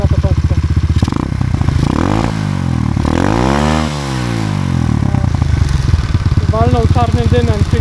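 A Loncine 110/125 motorcycle engine runs loudly and close up through a newly fitted, longer, narrower-diameter exhaust, firing with rapid pulses and revving up and down, with a rider's voice briefly over it.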